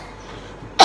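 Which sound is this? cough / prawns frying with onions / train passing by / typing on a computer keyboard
cough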